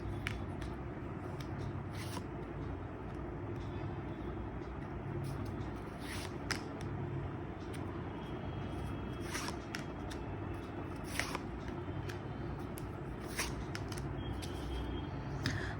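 Tarot cards are shuffled and drawn by hand, giving soft repeated riffling and sharp card snaps at irregular intervals over a steady low background hum, close and fairly quiet, with no talk.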